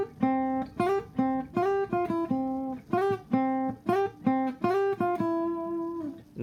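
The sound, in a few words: acoustic guitar melody hook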